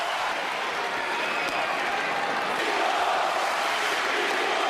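Boxing arena crowd during a Klitschko versus Brewster bout, a dense, loud roar of voices and applause swelling slightly toward the end, continuous throughout.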